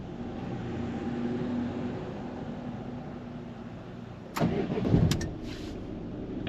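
A Citroën/Peugeot 2.0 HDi diesel engine turns over and catches in a short burst partway through, rising out of a steady low background rumble, with no talking.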